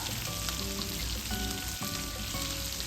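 Curry leaves crackling hard in hot oil with fenugreek, cumin and chana dal for a curry leaves pickle, a dense continuous sizzle with sharp pops, close and steady throughout.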